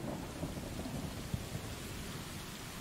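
Steady rain and rumbling thunder play through a rainy cutscene in the video game Stray, a continuous wet wash with a brief low crack partway through, no voices.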